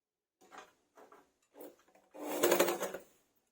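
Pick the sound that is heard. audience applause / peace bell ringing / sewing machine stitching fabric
sewing machine stitching fabric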